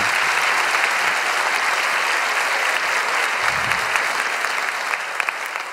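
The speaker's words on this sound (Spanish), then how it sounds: "Muy fuerte aplauso para él." Strong, sustained applause from a comedy show's audience for a musician, loud and continuous, tapering off slightly toward the end.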